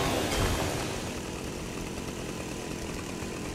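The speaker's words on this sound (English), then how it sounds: "I heard the chainsaw" Chainsaw in the Fortnite video game buzzes continuously and harshly, a steady loud drone that holds without pause throughout.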